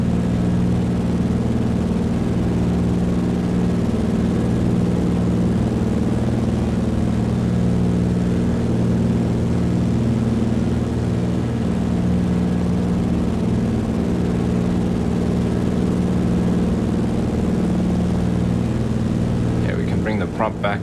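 Microsoft Flight Simulator 2020 propeller aircraft engine drones steadily and loudly after takeoff as a constant low hum that fills the cabin, while someone talks over it.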